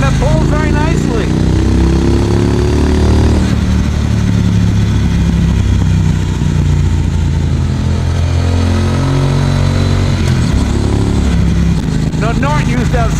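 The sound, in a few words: 2018 Triumph Bonneville Speedmaster motorcycle engine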